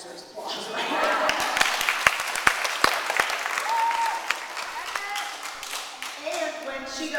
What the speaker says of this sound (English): I think that deserves applause right there